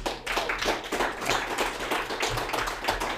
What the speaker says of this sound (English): All right, let's give it up for Tim